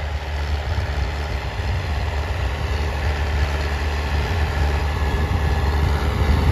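A tractor engine idles steadily in a wheat field during sowing, giving a constant low rumble that stays close and even throughout, with no talk over it.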